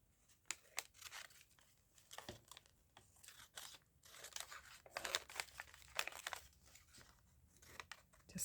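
Scissors cut squares out of patterned Christmas wrapping paper, close and quiet: a series of irregular crisp snips with crinkling and rustling of the paper between them, with no speech.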